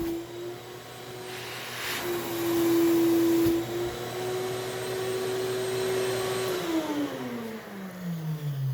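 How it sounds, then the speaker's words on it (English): Suction from the vacuum pump on a CNC router's vacuum table drones steadily as a loud whining hum, then rises in pressure before the pitch slides downward as it spins down near the end. No voices are heard. "But listen to that vacuum."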